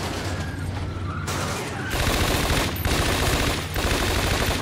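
Rapid automatic gunfire in Scarface: The World Is Yours comes in loud, dense bursts. Several sustained volleys are separated by brief, slightly quieter gaps, and the shots are close and continuous with no voices over them.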